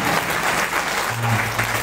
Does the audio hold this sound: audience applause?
yes